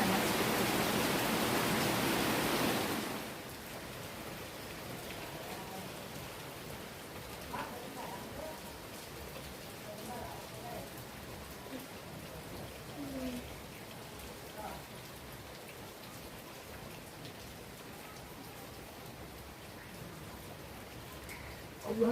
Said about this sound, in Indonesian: Hujan dikit.